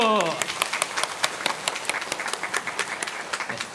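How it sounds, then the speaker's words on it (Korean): A Korean church congregation applauds during a Sunday morning service, with many hands clapping in a steady, rhythmic burst that fills the room right after a brief voice at the start. "하나님께 영광의 박수"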